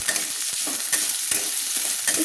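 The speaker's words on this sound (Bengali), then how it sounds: "আমি আলুটাকে একটু লাল লাল করে ভেজে নেব।" Potato pieces frying in hot oil for a cabbage bhapa puli pitha recipe, a steady bright sizzle broken by repeated scraping stirs of a spatula in the pan, close and loud.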